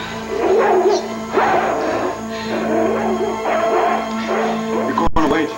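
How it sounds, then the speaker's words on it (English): Guard dogs barking and whimpering in short bursts through the scene, mixed under tense speech and a steady low background hum. "They're guard dogs."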